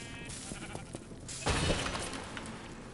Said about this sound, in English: Don't try to burn my poison sheep!